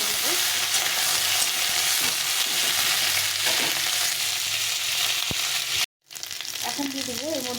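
Malabar spinach stems frying in a pan with a steady, loud sizzle, stirred with a spoon throughout; a brief drop-out near the end before the sizzling resumes.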